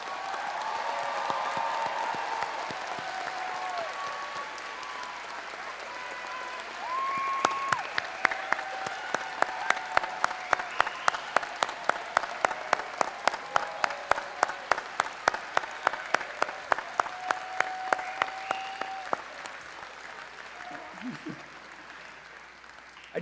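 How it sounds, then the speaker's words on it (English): An audience applauds at a 2021 International Academy West commencement ceremony, sustained clapping that swells and then fades out, with individual sharp claps standing out in the middle stretch and a few faint voices underneath. "You may applaud."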